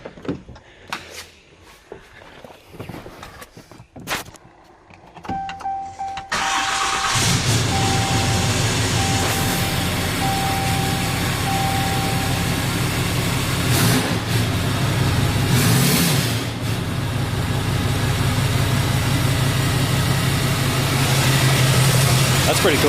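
A 2019 Cummins diesel truck engine with no exhaust fitted cranks and fires up after some handling noises, then runs at a loud, close, raw idle with a deep throaty rumble and slight rev swells; a person talks briefly before start.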